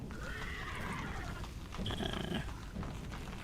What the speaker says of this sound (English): That was a skeleton horse down there.